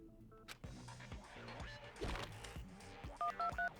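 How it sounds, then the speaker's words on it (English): Cheap flip phone in the video game Danganronpa 2 being dialed, a run of crisp DTMF keypad tones sounding near and clear over the game's music and effects. "Cheap-ass flip phone."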